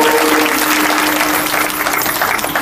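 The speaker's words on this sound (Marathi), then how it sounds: "टाळी वाजवा" Audience applause at a Marathi kirtan devotional gathering: a dense, steady wash of many hands clapping together, close and loud, sustained throughout with no talk over it.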